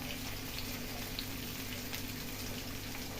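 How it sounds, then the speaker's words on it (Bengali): Water hits hot vegetable oil in a pan, raising a steady, hissing sizzle that stays even and fairly faint throughout, with no voices over it. "তেলের মধ্যে আমি জলটা দিয়ে দিলাম"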